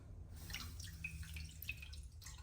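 Water pours into a pan for sugar syrup in faint, soft trickles and drips, heard quietly and close by.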